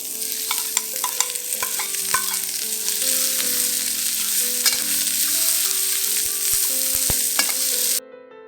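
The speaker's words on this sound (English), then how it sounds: "Fry them till the shrimps are pink and the onions are a little charred." Shrimps, spring onions and onion sizzle steadily in a pan, with frequent sharp pops and clinks of stirring over an even frying hiss for about eight seconds before it cuts off.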